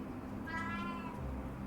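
A single drawn-out cat meow, fairly clear and moderately close, rising and falling over about a second against a quiet background hum; the cat is named Oscar.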